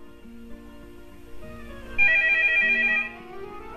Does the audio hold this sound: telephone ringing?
yes